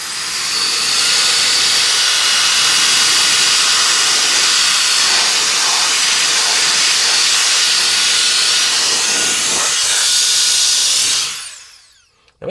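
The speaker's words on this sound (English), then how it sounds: "so it does a great job blowing air" APF-01 Violent Fan turbocharged air blower blasting air, a loud continuous rushing hiss with a whining motor tone, held steady for about eleven seconds before quickly spinning down to silence.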